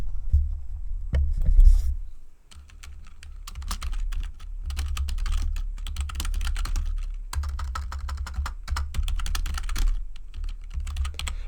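Close-up typing on a computer keyboard: irregular bursts of rapid key clicks with short pauses, over a low background hum.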